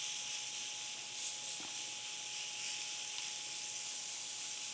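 Skirt steak sizzles on a hot grill pan, an even, steady high hiss held close and unbroken, with a faint steady electrical tone underneath and no speech.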